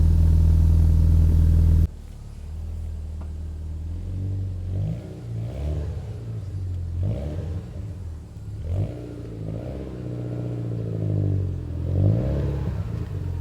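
A Porsche GT4 engine starts with a brief loud burst, then idles with a deep rumble, revving up and down several times close by.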